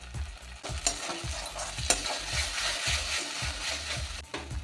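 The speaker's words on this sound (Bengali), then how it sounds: "এবার এটাও আমি ভালো করে কষিয়ে নেব।" Jackfruit curry masala with curd and meat masala sautéing in a pan over low heat, with continuous sizzling and repeated scraping, thudding spatula strokes close by.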